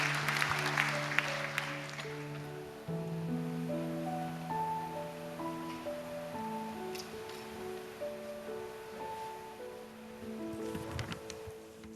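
A church congregation applauds warmly, with sustained clapping from a large crowd filling the space while organ or keyboard chords hold underneath, swelling again briefly near the end.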